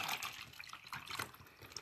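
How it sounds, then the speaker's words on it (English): Water being poured into a cup, about ten to twelve ounces, a broad splashing, gurgling stream that is fairly close and steady with small surges, heard alone without talk. "I'm pouring me some water into my cup."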